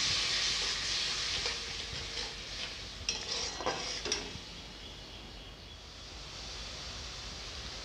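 A splash of water goes into Kashmiri chili powder, turmeric and coriander-cumin powder frying in a pan for a flat bean and shrimp curry. A bright sizzling hiss bursts up, followed by a few utensil clinks, then settles into a quieter steady simmer.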